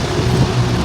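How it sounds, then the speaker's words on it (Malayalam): Strong wind and heavy rain lash outdoors in a loud, dense, continuous roar over a brief moment, with no speech. "നല്ല കാറ്റാട്ടോ, ഒടുക്കത്തെ കാറ്റും മഴയും."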